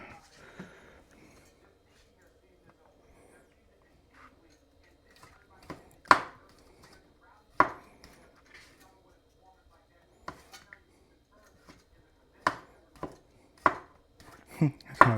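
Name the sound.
knife cutting pizza toppings on a board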